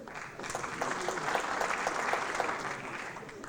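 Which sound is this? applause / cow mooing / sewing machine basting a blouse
applause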